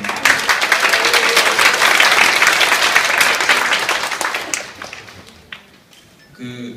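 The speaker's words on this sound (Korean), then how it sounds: "다시 한번 교수님께 박수" Loud, sustained applause from a large audience at a talk concert, dense clapping that gradually thins and fades toward the end.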